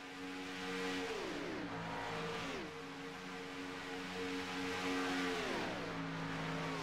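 Race cars at a Daytona championship race scream past, their engines whining at high pitch with repeated falling gear-shift drops, loud and continuous with no talking.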